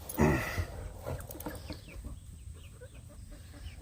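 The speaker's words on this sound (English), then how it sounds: "Hi, chicken birds." Chickens clucking close by, with a louder burst of squawks at the start, then scattered soft clucks over low background rumble.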